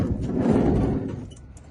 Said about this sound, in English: Let me get this door open.